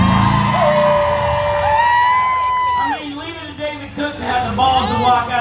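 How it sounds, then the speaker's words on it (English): At an outdoor Ribfest concert in Kalamazoo, a crowd cheers and whoops loudly and continuously, with a singer's sustained vocal and music carrying over the top. "how about another big round of applause"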